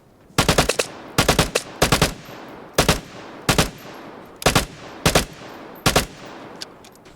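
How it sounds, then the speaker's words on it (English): Gunfire in the video game Vigor: nine quick bursts of automatic shots spaced about a second apart, loud and close, each burst a tight cluster of cracks with faint echo between. "I'm sending bullets in front of him so that way he runs into them."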